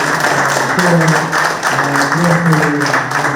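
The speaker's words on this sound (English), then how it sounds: "Can we give them a round of applause as they walk away from the podium?" Audience at a youth panel discussion applauding as panelists leave the podium: continuous crowd clapping with voices talking over it.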